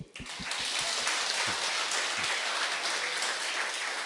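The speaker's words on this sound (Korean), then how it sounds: "박수" Audience applause at a Buddhist ecology lecture gathering, a dense steady patter of many hands that swells within half a second and holds evenly to the end.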